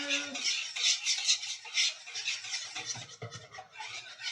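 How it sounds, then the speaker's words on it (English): Whisking pumpkin pie filling in a bowl, a quiet, continuous scratchy swishing with soft irregular pulses as the whisk moves through the mixture. "I'm going to use my whisk just to finish it off. Get it nice and smooth."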